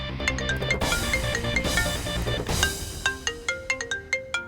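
Melodic phone ringtone plays, a tinkling tune with bright repeating notes, ending in a string of short chimes.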